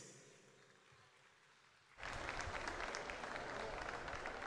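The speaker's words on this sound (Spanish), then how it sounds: "Un aplauso para todos ustedes" Applause from the audience at a youth San Juanero folk festival in Huila, Colombia, breaks out suddenly after a quiet moment and continues as a full, steady crowd clapping to the end.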